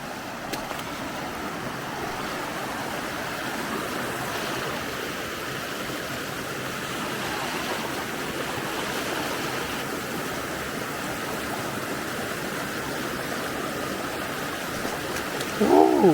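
Steady rushing of a cold stream being waded across by a trail runner, a continuous close wash of churning water with no talk, ending in a brief splash.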